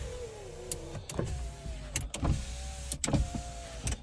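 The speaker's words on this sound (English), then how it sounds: "So all four windows are working, which is wicked." Electric power windows on a VN Calais car whir up and down with a steady motor hum, broken by several sharp clunks as each window stops, close and clear.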